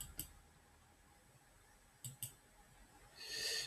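Three sharp computer mouse clicks, two of them a quick pair, on a quiet desk while setting up a Wacom graphics tablet on Ubuntu Linux, followed by a brief rising rustle.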